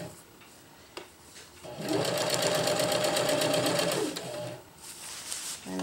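A sewing machine stitches a stuff sack in a close, rapid whirring run of about two seconds, set between quieter handling sounds in a room.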